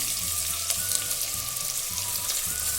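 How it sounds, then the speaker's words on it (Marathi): One large thinly sliced onion fries in three tablespoons of oil inside a pressure cooker, giving a steady close sizzle with faint bubbling and no voices. "इथे आपण कुकरमध्ये तीन टेबलस्पून तेल घेतलेले आहे त्यामध्ये आता आपल्याला उभा बारीक चिरलेला एक मोठा कांदा टाकायचा आहे"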